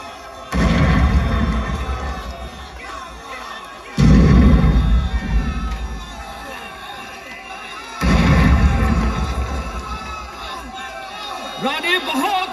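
Deep booming cannon blasts in a staged historical battle play about Rani Durgawati, three heavy bursts spaced about four seconds apart, each trailing into rumbling crowd noise and shouting voices.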